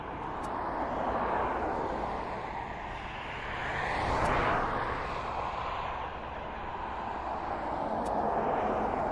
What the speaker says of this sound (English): Another aircraft coming in somewhere.